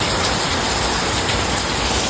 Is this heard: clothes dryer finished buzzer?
no